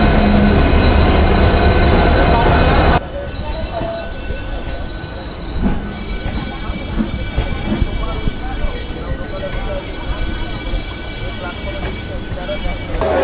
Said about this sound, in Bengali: 4:36-এর খড়গপুর হাওড়া লোকাল এখন এই 5:27-এ প্রবেশ করছে সাঁতরাগাছিতে